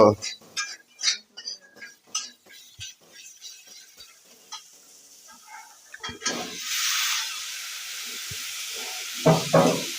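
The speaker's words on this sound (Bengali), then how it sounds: "এটা দেওয়া হচ্ছে আলু এবং ফুলকপির ডাটা সব ভাজা হচ্ছে" Potatoes and cauliflower stalks frying in a pan, with a broad steady hiss rising partway through after earlier clatter and nearby voices.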